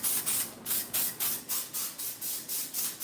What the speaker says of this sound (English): So just going in with some texture spray and some hairspray